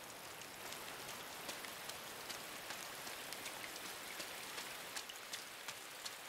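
Steady rain falls in the video game INSIDE, a dense hiss of drops with light, regular ticks and patters rising out of it, close and unbroken throughout.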